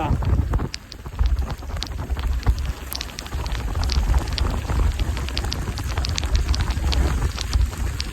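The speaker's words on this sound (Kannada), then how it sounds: "ಮಳೆ ಹೊಡಿತಾ ಇದೆ ಸಿಕ್ಕಾಪಟ್ಟೆ." Heavy rain pounding down in Kudremukh during a motorbike ride, a loud, dense roar of drops with scattered sharp spatters and low wind buffeting close to the microphone.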